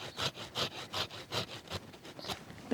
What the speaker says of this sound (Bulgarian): Най-напред се отрязва подложката с трионче